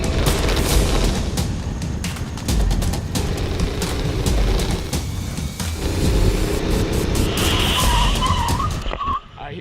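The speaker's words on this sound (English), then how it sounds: "I hear squealing tires." Car tires squealing on a racetrack lap, a continuous loud skidding roar with engine noise throughout and a high screech rising near the end.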